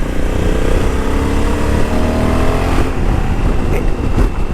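A Honda Africa Twin DCT motorcycle in sport mode pulls hard under acceleration, its engine note climbing loud and close through rising revs, with a quick shift dip and wind rush near the end.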